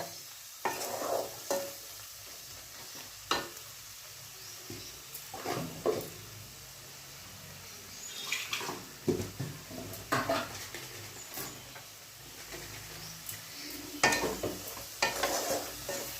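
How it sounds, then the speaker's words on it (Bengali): Poppy seed and melon seed paste frying in oil in a pan, a soft sizzle under repeated scraping stirs of a spatula that come in irregular bursts of clatter and rasp, close and fairly quiet. "পোস্ত আর চাল মগজ থেকে তেল তেল বেরোয় একটু কষিয়ে নিতে হয়"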